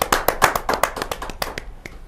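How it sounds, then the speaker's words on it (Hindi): A short round of hand claps at a poetry recital, sharp and fairly close, tapering off into a few scattered claps before stopping. "एक जोरदार तालियों से स्वागत करते हैं।"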